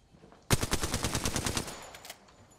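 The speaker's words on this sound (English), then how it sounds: "We're being shot at by multiple angles." Rapid automatic gunfire in a video game firefight, a dense burst of shots lasting about a second and a half that then fades into a ringing tail.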